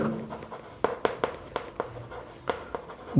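A pen or pencil writes numbers by hand on paper in a series of short, sharp scratching strokes, close and fairly quiet, with brief pauses between the marks.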